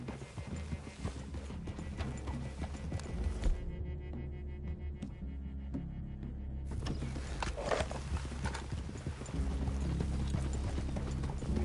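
Horses in Red Dead Redemption 2 walking through a forest clearing, steady clip-clop hoofbeats with an occasional snort or whinny, close and continuous over a low ambient bed, no talking.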